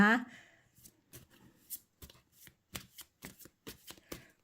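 Gypsy fortune-telling cards are shuffled close by in a series of short, crisp riffles and slaps in an uneven rhythm, with a voice speaking briefly at the start.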